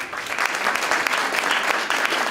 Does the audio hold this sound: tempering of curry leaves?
no